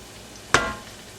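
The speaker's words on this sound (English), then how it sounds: "I'm gonna add some chorizo. Get this cooked down a bit." Chorizo fries in bacon grease with a soft, steady sizzle, broken midway by one sharp clack of a utensil against the pan.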